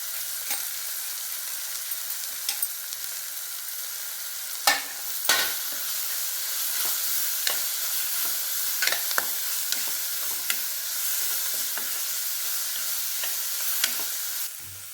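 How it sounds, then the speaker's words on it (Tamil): Onion, tomato and carrot sautéing in a pan, a steady close sizzle and fry with occasional sharp clinks and scrapes of stirring throughout, no talking. "இந்த அளவுக்கு வெங்காயம் தக்காளி வதங்கினா போதும்"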